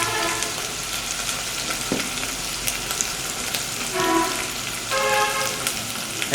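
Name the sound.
beef curry with chickpea dal sizzling while stirred in pan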